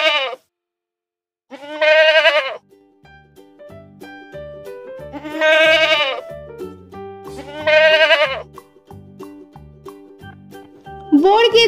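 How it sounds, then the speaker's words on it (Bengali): A baby goat bleats in several separate, wavering cries, each about a second long and spaced a few seconds apart, over a soft, steady musical background. "ছাগল ছানা লাফিয়ে চলে"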